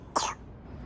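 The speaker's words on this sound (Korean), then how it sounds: "아이고 기침하고." A single short cough from a 23-month-old toddler with pneumonia symptoms, close and fairly loud, followed by quiet room tone.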